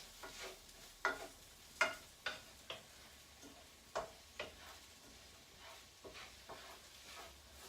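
Onions cooking in a pan, with quiet sizzling and a series of soft spaced clicks and taps of stirring, close but faint.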